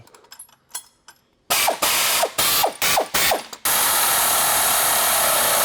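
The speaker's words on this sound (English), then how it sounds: "take your ratchet or whatever you can fit in there, and then put your wrench on the back side and tighten up" Ratchet tightening differential mounting bolts on a 2020 Ram 1500 during a lift install, a rapid clicking burst in several short strokes, loud and close, followed by a steady broadband hiss.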